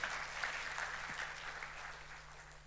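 Faint applause from a church congregation during a sermon, a soft patter of clapping that gradually fades, heard from a distance with a low steady hum.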